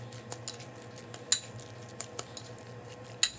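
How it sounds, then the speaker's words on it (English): Guacamole being mashed and mixed in a bowl, with soft squishing and scattered clinks of a utensil against the dish, fairly quiet and close. "mash it all down, mix it all together"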